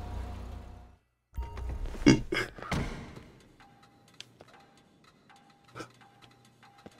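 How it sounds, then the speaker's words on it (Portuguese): A car's exhaust in GTA V ticking and clicking after the engine is shut off in a garage, a few thuds at first followed by sparse, faint, irregular ticks in near silence. "Olha o barulho do escapamento quando desliga o carro"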